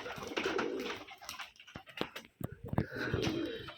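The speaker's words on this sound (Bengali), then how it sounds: "ভাইয়ের কাছে যেগুলো কবুতর দেখছেন সবগুলো আর কি বাজির কবুতর" Rajshahi Giribaz pigeons coo close by, with repeated soft throaty calls over rustling and some background noise.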